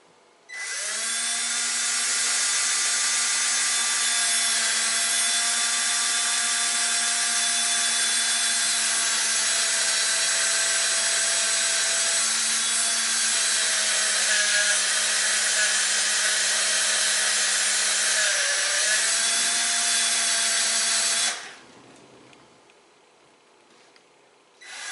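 A power drill bores out an aluminum pop rivet on a bike rack, a steady high whine with harmonic tones running loud and continuous for about twenty seconds, dipping briefly near the end before stopping abruptly.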